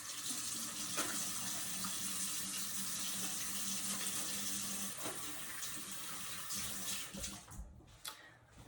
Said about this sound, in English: I'm gonna go ahead and wash my hands really quick.